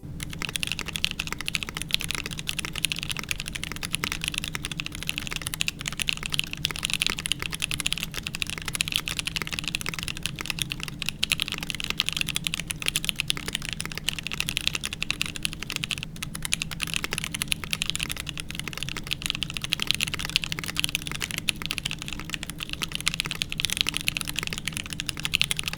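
Steady, continuous typing on a keyboard fitted with lubed Durock Light Tactile switches, a dense run of soft, dampened keystrokes at close range with no talking.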